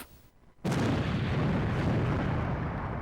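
After a brief quiet moment, a sudden loud simulated explosion at a chemical site erupts and rolls into a sustained, rumbling roar that fades only slightly.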